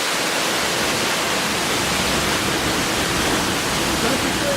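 The roar of a 100 foot waterfall fills the space, a dense, loud, unbroken rush of falling water heard from very close, as if standing right beneath it.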